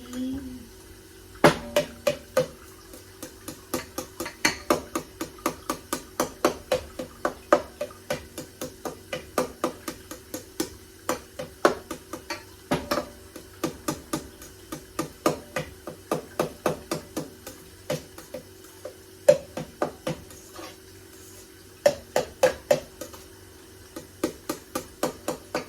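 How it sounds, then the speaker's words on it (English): Knife chopping boiled eggs finely on a board for potato salad, a long run of quick, sharp, evenly spaced knocks, close and crisp over a quiet background, with no talk. "But I will chop them finer than what I'm looking at right now."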